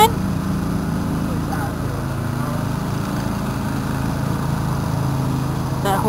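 A lawn mower drones steadily nearby in a residential yard, a continuous low engine hum that holds for several seconds beneath faint background talk.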